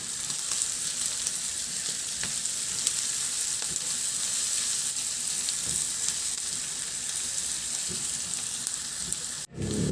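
Continuous crackling sizzle of ground meat frying with onions in a pan while being stirred, even and close throughout, ending with a brief dropout.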